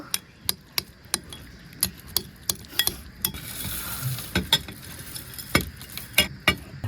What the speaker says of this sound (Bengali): তো এবার চামচ দিয়ে মাখিয়ে নেব।